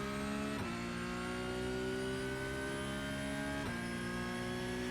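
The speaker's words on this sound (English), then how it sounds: "Press the button for the launch control, first gear, accelerate, dump the clutch." Simulated race car in a sim racing game on a Conspit CPP Lite pedal, launching with launch control from first gear: a loud, continuous engine roar climbing steadily in pitch, with two sharp dips where the gears shift.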